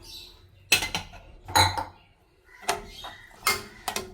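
Chickpeas are added to a pan and stirred, making a few sharp metallic clinks and scrapes of a spoon against the pan, separated by quiet gaps, close by with no talk.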